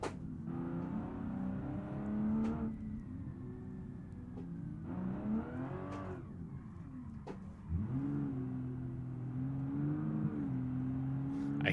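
Twin-turbo V6 sports car engine in a racing video game, a steady loud drone that rises and falls in pitch as the car revs and shifts, with a sharp surge near the middle.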